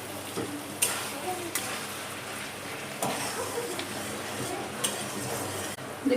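Malabar spinach (pui shak) stems are turned over in a pan, giving a soft, rain-like sizzle with several sharp utensil clinks against the pan at irregular intervals; no voice.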